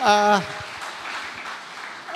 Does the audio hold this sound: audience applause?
yes